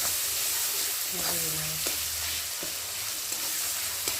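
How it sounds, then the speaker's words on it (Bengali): Tomato with turmeric is stirred in a frying pan, a constant bright sizzle under intermittent spatula scrapes and a few short clatters, close and fairly loud. "হলুদ গুঁড়ো দিয়ে টমেটোটা একটু ভালো করে নেড়ে নেড়ে গালিয়ে নেব"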